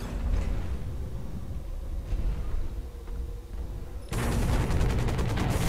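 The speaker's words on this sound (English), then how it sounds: "Somebody's shooting at me." Heavy mech gunfire from the video game Hawken, sustained rapid bursts and rumbling fusillades that continue without pause, then grow louder and denser near the end.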